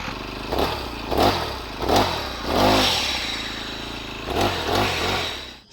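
A grass-cutting machine engine in a Kerala forest is started and sputters into life, revving loudly in several uneven bursts that rise and fall close by.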